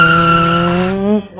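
A motorbike pulling away on a road, its engine note held steady and loud close by, then rising briefly in pitch before the sound cuts off sharply near the end.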